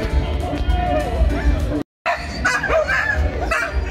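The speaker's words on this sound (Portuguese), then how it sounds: "Aqueles cachorros ali começaram a brigar." Dogs fight outdoors near a lagoon, a tangle of yips, barks and whimpering snarls close by, with people chattering underneath and a brief cut in the middle.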